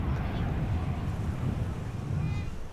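Gusty crosswind roars at Amsterdam Schiphol Airport, a steady broadband rush buffeting the microphone with low rumbling throughout and no breaks.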